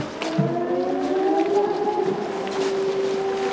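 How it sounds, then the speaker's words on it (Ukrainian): A civil defense air raid siren wails steadily, a loud sustained rising-and-falling tone heard outdoors in Ukraine during wartime, with no talking over it. "Повітряна тривога."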